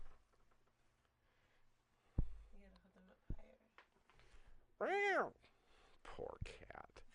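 A cat lets out a clear, loud meow midway through, with a few fainter cries after it, mixed with thumps and people talking nearby.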